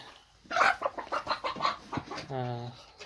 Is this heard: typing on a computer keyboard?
no